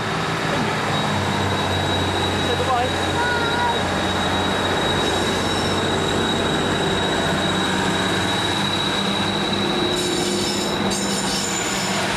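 A Tamar Belle train rumbles steadily along the rails, loud and close, with a sustained high metallic whine and wheel squeal toward the end.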